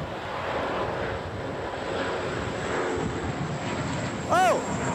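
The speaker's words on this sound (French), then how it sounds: "il y a un Canadair qui va passer" A Canadair firefighting water-bomber flies over a wildfire, giving a steady broadband engine drone with wind-like rumble for the whole stretch and a brief higher tone near the end.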